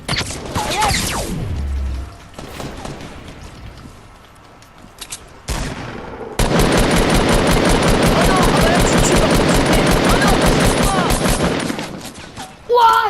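In the video game Fortnite, sustained bursts of rapid automatic gunfire rattle loudly for several seconds. Scattered shots and game sounds come before the bursts, and players speak French over parts of it.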